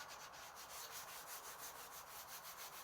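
Sandpaper rubbing back and forth across a dumpster-find piece of furniture, a steady, close raspy scratching in quick regular strokes that continues without pause and with no talking.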